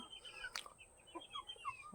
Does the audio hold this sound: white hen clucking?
yes